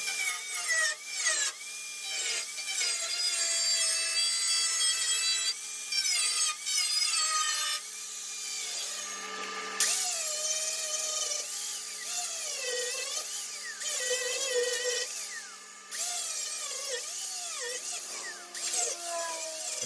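A cutting tool screeches through the sheet metal of a 1988 Ford F150 4x4 cab wall in long, loud, shrill passes with brief pauses between them, close up and with no talking.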